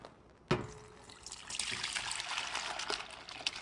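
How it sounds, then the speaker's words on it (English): Homemade chicken soup is poured through a colander into a bowl in a kitchen sink, a steady close splashing stream of liquid that starts abruptly and keeps trickling with no talk. "we're going to pour the soup through the colander"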